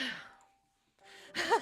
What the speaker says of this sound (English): It sounds like breathing. A sharp inhale, like something is sucking the air.